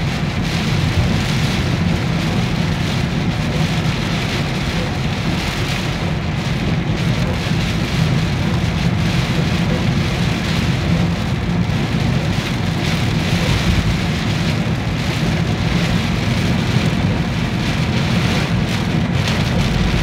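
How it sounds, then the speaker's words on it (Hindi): Heavy June rain pours down steadily in Dubai, a dense hiss of drops on surfaces, with low thunder rumbling through the downpour. "दुबई में बारिश।"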